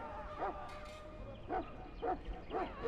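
Mabari war hound in Dragon Age Origins giving four short, sharp barks spaced about half a second apart at moderate distance, over a low background hum.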